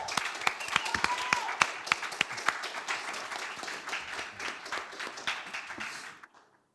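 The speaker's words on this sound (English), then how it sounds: "Let's have a round of applause for the panel." An audience at a DePIN Day conference in Brussels applauds a panel, with dense, sharp, close claps building into a sustained wash of clapping that tapers and stops abruptly near the end.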